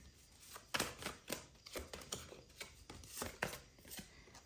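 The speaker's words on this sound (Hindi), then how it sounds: "sorry, I have to shuffle again" A tarot card deck shuffled by hand close up, making repeated soft, quick bursts of riffling and slapping at a quiet level, with no talking.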